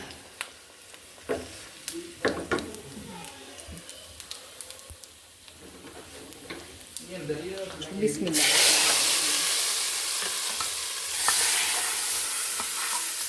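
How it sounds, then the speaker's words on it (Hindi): Cumin and onion tempering in a home kitchen pan, first with scattered stirring clinks and light sizzling under a voice, then a loud, bright burst of frying hiss that stays steady to the end. "ये लीजिए ज़ीरे का और प्याज का तड़का लगा रही हूँ।"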